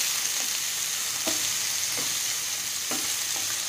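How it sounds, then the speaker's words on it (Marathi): Sliced bitter gourd sizzles steadily in hot oil over a medium flame, with a constant frying hiss and a few soft scrapes of a spoon turning the slices. "आपल्याला कारेल्याच्या फोडी आहेत ह्या तेलामध्ये छान रंग बदलेपर्यंत परतून घ्यायच्या आहेत"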